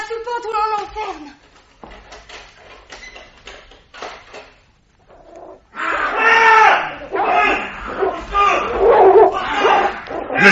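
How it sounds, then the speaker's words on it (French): A dog barks and yips in short bursts, then whimpers and snarls more loudly, mixed with shouting and agitated voices indoors. "Le chien est en train de le dévorer."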